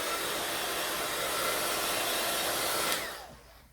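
A handheld heat tool blows hot air to dry and heat set stamped ink on a card, a steady loud whooshing hiss that winds down and stops near the end.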